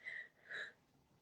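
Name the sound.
sneeze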